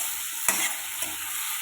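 Onion frying in a pan, a constant close hiss of sizzling oil broken by two quick scrapes of a spoon stirring; no voices.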